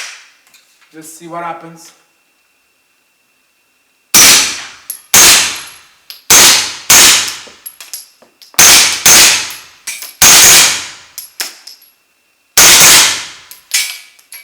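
Suppressed CZ Scorpion Micro firing 124 grain rounds with an integral suppressor: about nine sharp, muffled shots in an uneven rhythm, each with a brief ring, preceded by a short spoken line and a quiet pause.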